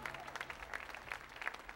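Faint, distant applause from a concert audience greeting the brass section of the band at the Kennedy Center, scattered clapping with a low background hum.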